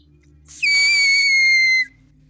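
A homemade loud whistle is blown once, giving a piercing, steady shrill tone with strong overtones that starts abruptly with a breathy onset and holds for just over a second before stopping.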